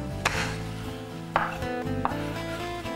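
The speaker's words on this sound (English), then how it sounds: "Now we've got our garlic. Now we need to chop this really quite fine." Garlic being chopped finely on a board for gremolata, a few sharp knife strikes spaced irregularly over a steady background hum, close and clear.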